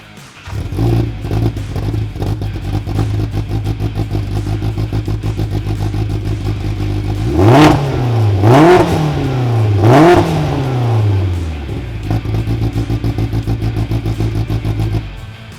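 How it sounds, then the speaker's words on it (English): A Polaris RZR Pro R engine fitted with a slip-on exhaust idles with a loud, burbling rumble, then revs sharply three times in quick succession, each blip rising and falling, before settling back to a lumpy idle. "we're seeing a 10 horsepower increase with our slip-on exhaust. And boy, does it have a great sound."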